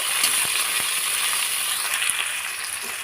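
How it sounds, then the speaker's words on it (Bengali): Onion, garlic and ginger-garlic paste fry in a pan, heard as a steady close hiss and sputter broken by a few sharp utensil clinks against the pan. "এখানে পেঁয়াজ আর রসুন আমি একটু দেখো লাল করে ভেজে নিয়েছি।"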